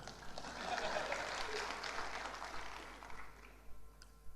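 Church audience applause during a sermon, a faint, dense patter that swells early then thins out into a few scattered claps.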